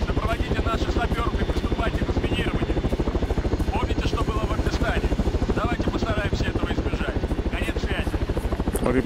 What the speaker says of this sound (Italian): Eccolo all'elicottero, dai che dobbiamo andarlo a prendere.